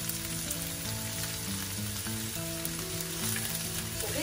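Beancurd and Thai basil leaves fry in a hot pan for a spicy vegetarian Thai dish, a dense steady sizzle close up with faint stirring underneath and no talking.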